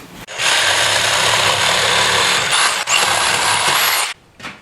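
Power drill boring a pilot hole in wood for hanger bolts on a truck camper vent hood, a loud, close, steady grinding whir lasting about four seconds, briefly dipping midway, with no talk.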